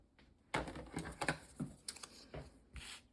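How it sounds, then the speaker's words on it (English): Paper for a handmade birthday card being cut into a rectangle, producing a quick run of crisp clicking snips and light scrapes, close and fairly sharp, with no speech. "I'm going to cut this in a rectangle"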